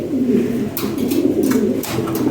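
Fancy pigeons coo in low, rolling murmurs that continue throughout, with a few brief sharper rustles or flaps mixed in; close and fairly loud.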